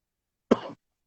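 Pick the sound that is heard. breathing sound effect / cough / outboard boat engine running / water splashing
cough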